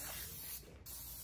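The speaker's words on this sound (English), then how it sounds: "but first I want to spray" Cooking spray hisses from a can onto wonton wrappers set in baking cups, one steady close spray lasting about half a second with no talk.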